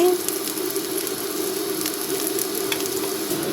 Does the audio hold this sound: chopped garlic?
yes